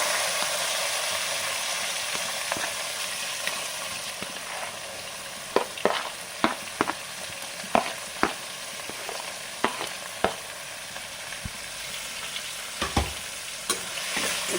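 Onion, green chili and capsicum fry in hot oil with a pinch of asafoetida in a pan for ragi shavige uppittu, giving a steady close sizzle broken by sharp, irregular clicks of a spoon stirring against the pan. No one speaks.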